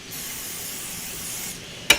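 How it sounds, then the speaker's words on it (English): A steady hiss of aerosol cooking spray on pork chops lasting nearly two seconds, close and continuous, ending with a brief clatter. "I'm going to spray them down"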